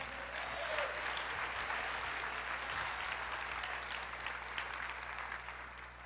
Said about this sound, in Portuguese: Aplauda Ele. Glorifique o seu nome.